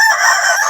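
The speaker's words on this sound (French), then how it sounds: "avec 300 poules Wassaché" Wassaché chickens, a local Malian breed, on a farm of about 300 laying hens in Mali, form a dense, continuous chorus of clucking and crowing, loud and close over the short span.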